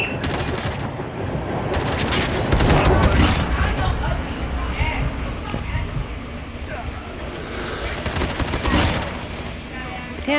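Bursts of rapid gunfire, including automatic fire, crackle through a busy Call of Duty soundscape, with a voice talking over parts of it.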